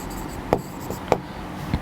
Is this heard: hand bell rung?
no